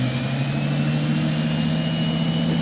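An air-driven vacuum turbine brush head with a modified inlet running steadily, a constant whirring turbine whine with strong low humming tones and no pauses or voices.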